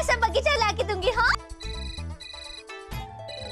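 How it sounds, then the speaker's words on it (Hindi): Phone ringtone ringing in a Hindi TV serial scene, a bright looping electronic melody with clear tones, heard after a stretch of close dialogue that it partly overlaps. "अरे फोन आ रहा है।"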